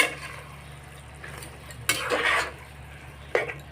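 A spatula stirs taki fish in a pan, with a quiet frying background broken by a few sharp metallic scrapes and clanks against the pan, no voices.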